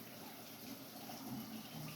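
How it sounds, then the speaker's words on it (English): Hot tap water pours steadily through a double corner box aquarium filter, a continuous hissing, splashing rush that stays even and close throughout. "I'm just letting hot water run through the top and bottom."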